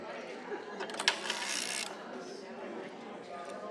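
A hand-cranked sock knitting machine whirs and ratchets at a sheep and wool festival, a busy mechanical clatter with a brief sharper burst, over faint crowd murmur.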